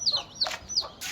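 A hen with young chicks clucks and calls in short, close bursts, three quick sharp vocalizations in rapid succession with no voices over them.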